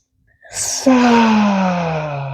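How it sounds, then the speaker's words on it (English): A deep, audible breath drawn in during a guided meditation, rising quickly from silence into a full inhale with a soft breathy onset and a smooth, sustained tone that gently trails off, close and clear. "We breathe into the heart."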